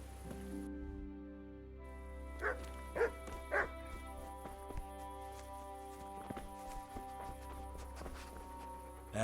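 A dog in the video game Kingdom Come: Deliverance gives a few sharp barks in the middle, set over a steady hum of game ambience and music, with faint footsteps around them.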